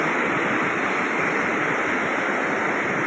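Fast-flowing river water rushes under a bridge at Alipoor, a loud, dense, continuous roar of broadband noise with no break.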